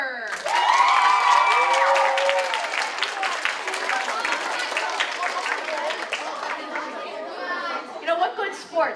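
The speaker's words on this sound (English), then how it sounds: "The rest of you are really cheering them on for that." An audience at a school DARE graduation applauds and cheers, a burst of clapping and shouts that fades into a lively crowd murmur with voices chattering throughout.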